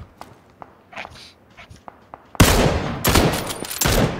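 Gunfire in the battle royale shooter PUBG: a few scattered distant pops, then a sudden loud burst of rapid shots that keeps crackling on through the rest of the moment, with faint movement sounds beneath.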